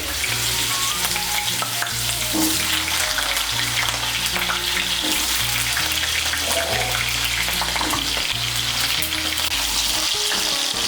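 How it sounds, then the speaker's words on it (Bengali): Potato pieces frying in hot white oil in a wok, a loud continuous crackling sizzle with bubbling that holds steady throughout, heard up close with no voices. "তেলটা গরম হয়ে গিয়েছে, এর মধ্যে আমি আলুগুলো ভেজে নিচ্ছি।"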